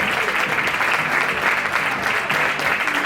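Spectators at a women's all-star futsal match in Lugo applaud a player being introduced, a dense, loud, continuous clapping that holds steady for three seconds.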